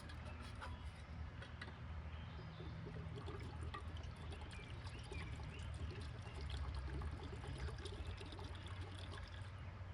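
Water pours and trickles steadily outdoors at a riverside camp, a soft continuous splashing stream running for the whole stretch at low level, with faint background noise and no clear talk.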